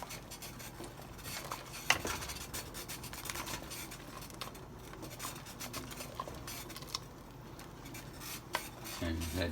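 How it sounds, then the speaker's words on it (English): Spoon scraping and stirring through Filipino sopas soup in a pot, a steady close rubbing and swishing with occasional sharper clinks against the metal, continuous throughout. "You stir that up."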